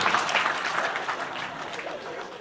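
An audience at a spiritual discourse on addiction breaks into applause, a loud burst of clapping that gradually thins out and fades.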